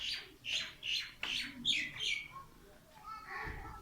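Crows perched on a rooftop across the way call in a series of harsh, rhythmic caws on a cold, smoky village morning, fairly distant and fading into a lower squawk at the end.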